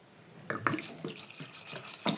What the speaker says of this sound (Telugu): వాటర్ పోసుకుని నానబెట్టుకుందాం